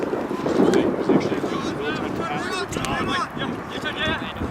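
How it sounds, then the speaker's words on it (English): Wind gusting across an outdoor soccer field during a youth state cup semifinal, a steady rumbling buffet against the microphone with crowd and player voices mixed in. "Wind is blowing from our right to left."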